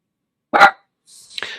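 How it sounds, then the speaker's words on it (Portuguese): A small dog gives two short barks, close by and loud, in a quiet indoor room; the first is a full bark and the second is a thinner, higher yap. "Aqui a cachorrinha, sempre que alguém bate a campainha, ela avisa."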